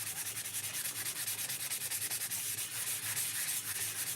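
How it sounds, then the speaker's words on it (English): Hand sanding of a tumbler cup to rough up and remove its glossy finish: steady, close scratchy rubbing strokes in a continuous rhythm, loud and alone with no voices. "I want to sand my cup. So I'm just going to rough this up, get rid of all the shine."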